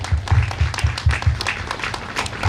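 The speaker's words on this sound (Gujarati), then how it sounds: "સૌથી પહેલા તો ફેમિલી માટે જોરદાર તાળીઓ થઈ જાય" A crowd of guests breaks into lively applause for the family at a birthday party, claps close and uneven, rising and falling in bursts with a little chatter underneath.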